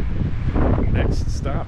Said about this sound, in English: Super windy though.